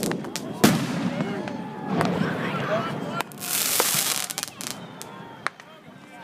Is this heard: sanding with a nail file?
no